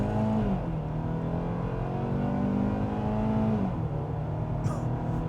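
2025 Hyundai Tucson with the 2.5-liter engine in Sport mode accelerating hard from a standstill, a steady loud engine drone rising in pitch, dipping at a gear shift and climbing again, with no talk over it.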